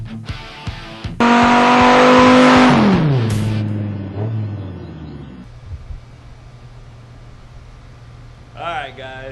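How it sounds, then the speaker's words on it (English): A 1973 K5 Jimmy on its maiden voyage, its engine roaring loud and close as it accelerates, then the note winding down into a steadier low rumble while a voice talks over it. "I just finished taking the Jimmy for its maiden voyage"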